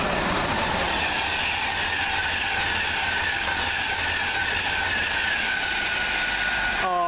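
A passenger train from London King's Cross to Edinburgh Waverley rumbles steadily past at close range at Welham Green, wheels rolling on the rails with a faint squeal near the end.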